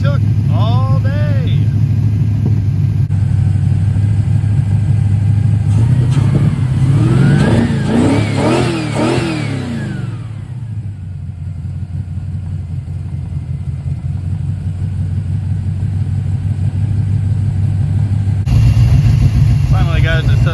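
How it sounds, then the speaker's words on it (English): A 1973 Dodge Dart Swinger V8 drag car idles roughly after a cold start, not firing on all eight cylinders, with a loud steady low rumble and a brief mid-clip blip of revving before it settles back. "Finally got it to settle down to a decent idle. I don't think it's exactly hitting on all 8"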